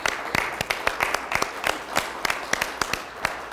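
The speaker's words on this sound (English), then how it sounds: "Could I just have a quick round of applause for my friend Christine Alessandro?" Audience applause at a community gathering, clapping from a modest group, with sharp individual claps that stand out over a softer background patter, evenly sustained throughout.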